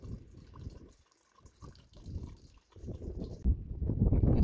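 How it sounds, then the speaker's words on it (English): Water runs through a frozen filter at an off-grid homestead in cold weather, a continuous wash of flow and splashing that swells and eases, growing louder toward the end. "My filter here is frozen, so I'm running water through it."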